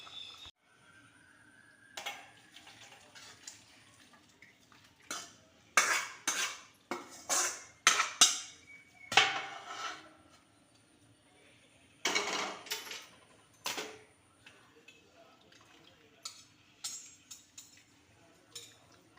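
A metal spoon presses moringa leaves against the inside of a vessel, giving a run of irregular scraping clinks and knocks that come in uneven bursts with short pauses, fairly close and alone.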